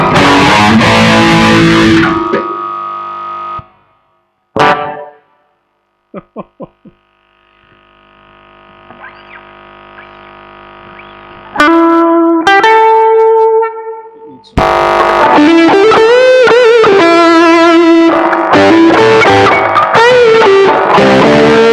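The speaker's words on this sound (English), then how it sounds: "Should I put some distortion on this?" A plywood SG electric guitar is played live through distortion, with loud, harmonically rich chords and single notes separated by silent gaps, a few short plucked stabs, and a thin sustained tone. It ends in sustained, bending distorted phrases.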